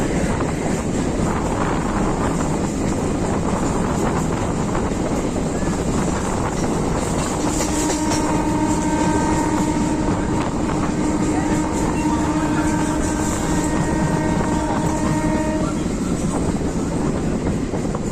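A local train on the Howrah–Amta line passes through a crossing loop with a continuous roar and rumble, wind buffeting the microphone and sustained tonal squeals and whines from wheels or brakes midway.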